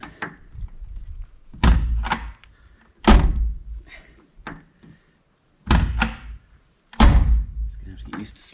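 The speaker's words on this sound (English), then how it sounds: "Get used to slamming it, which is just fine." An RV door is slammed shut repeatedly, five or six loud, close thuds spaced a second or two apart, with brief pauses between and a voice speaking quietly in the gaps.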